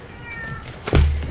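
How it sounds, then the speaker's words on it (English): A cat meows indoors, a short close cry rising near the end over faint room noise, with a single low thump at the same moment. "It's my cat. He just came in."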